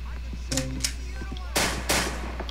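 Gunfire in GTA IV during an LCPDFR police chase with an unmarked SDPD Taurus, several sharp shots in two loud bursts, with radio chatter and voices around them.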